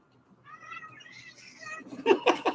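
A pet cat, a big black and white one, gives a few close meows indoors, soft at first then louder toward the end, with no talking over it.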